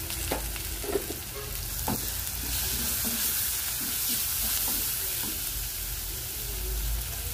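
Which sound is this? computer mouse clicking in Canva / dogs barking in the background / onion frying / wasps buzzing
onion frying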